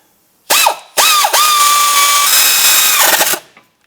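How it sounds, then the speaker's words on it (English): Power tool snugging down the caliper bracket bolts on a 2005-2009 Subaru Outback during a front brake job: several close, loud whirring bursts that rise and fall in pitch, ending in one longer sustained run. "I'm going to go ahead and just snug down these caliper bracket bolts."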